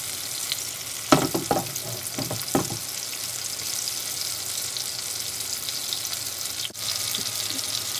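Salmon fillet pan frying in oil over medium-high heat, a steady broadband sizzle running throughout with a few louder crackling spits and utensil scrapes near the start.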